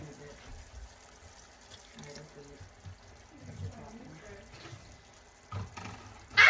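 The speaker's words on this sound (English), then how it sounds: "just add a little bit more water right now" Tap water runs into a cooking pot in a home kitchen, a faint, uneven splashing and trickling beneath people talking, with a louder burst near the end.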